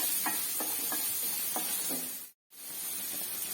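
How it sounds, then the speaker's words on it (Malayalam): Chopped onion and curry leaves sauté in a pan for cutlets, with a continuous close sizzle and several soft spatula scrapes, broken by a brief moment of silence. "നമുക്ക് കൊത്തി അരിഞ്ഞ ഒരു സവാള ഇടാം. കരിയാപ്പിലയും കൂടി ഇട്ട്"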